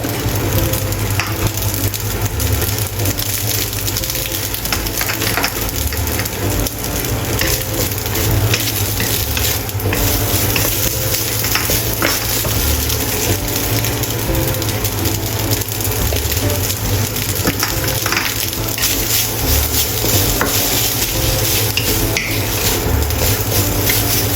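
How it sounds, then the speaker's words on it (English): Beaten egg fries with corn for vegetarian fried rice, giving a loud, steady sizzle with faint stirring scrapes throughout and no voices. "Add egg liquid and let it fry and solidify."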